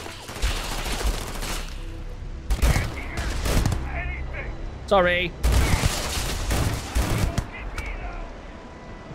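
Bursts of rapid gunfire in modded Starfield, several volleys with pauses, and someone briefly speaking between them.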